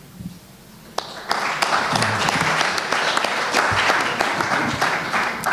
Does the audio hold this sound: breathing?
no